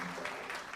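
Congregation clapping at a Christian church sermon in India, a brief steady patter of many hands, faint and somewhat distant.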